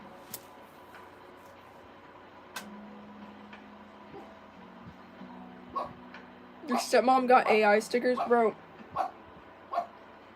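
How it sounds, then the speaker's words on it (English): A dog barks during a livestream, letting out a quick cluster of loud, sharp barks in the middle of the clip over a quiet room, with people talking before and after. "This dog is not gonna stop barking."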